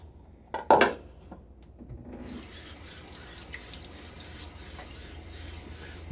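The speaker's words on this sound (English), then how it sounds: "I'll let the water run for a second because you need to get that water up here from downstairs, the hot water." A household tap left running to bring hot water up from downstairs, a soft steady flow of water into a sink after a couple of brief clatters at the start, with no talking.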